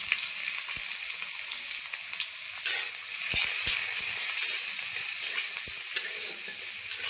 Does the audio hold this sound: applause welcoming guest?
no